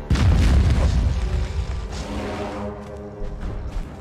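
A deep, booming explosion in the survival video game Conan Exiles bursts loudly at the start, then its rumbling tail slowly decays over several seconds.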